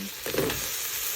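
Vegetables drop into a hot pan and crackle briefly with an oily sizzle, a short close burst over steady background hiss, with no voices.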